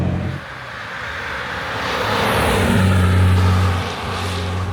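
A Series 1 Jaguar E-Type XKE on a test drive after restoration, its engine droning steadily from inside the car, then swelling into a louder rev for a second or two before easing back.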